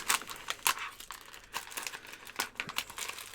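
A plastic packet is cut open with a knife and handled, producing close, crisp crinkling and rustling in irregular bursts, fairly quiet with no talking.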